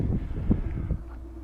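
Wind gusts buffet an outdoor microphone on a coastal bank above a small beach, a steady low rumble with a brief stronger surge midway before easing off.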